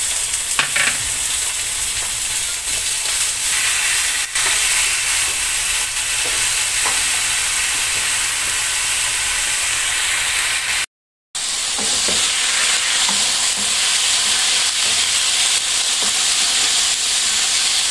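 Chicken wings fry in a pan with onion, a loud continuous hissing sizzle that holds steady throughout, briefly cut out near the end, with no one speaking.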